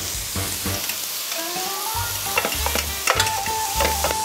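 Beetroot spring rolls sizzling in a hot pan as they are turned, a steady fry crackle punctuated by several sharp knocks and scrapes of the utensil, with a faint whistle-like tone near the end.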